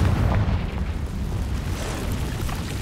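A Confringo blasting spell explodes in the video game Hogwarts Legacy, giving a continuous, moderately loud crackling roar of fiery blasts with no talk over it.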